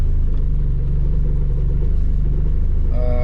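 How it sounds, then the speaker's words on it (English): A Lotus Elise fitted with a fused R4 setup idles with a deep, steady engine rumble, loud and close, holding evenly for about three seconds with faint tonal sounds creeping in at the end. "you don't need to use the fob anymore to start the car."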